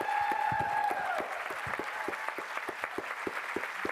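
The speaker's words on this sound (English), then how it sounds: "can we give them one more round of applause?" Sustained applause from a crowd at a panel discussion, dense clapping throughout with a brief tonal sound fading early on.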